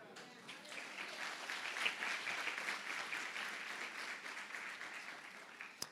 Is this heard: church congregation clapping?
yes